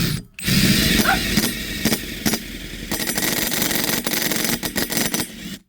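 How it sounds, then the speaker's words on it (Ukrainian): A 12-volt impact driver bores into metal, up close, with loud whirring and hammering bursts broken by short pauses and uneven stops. "Це 12 вольтний імпакт. Попробуємо, як воно піде."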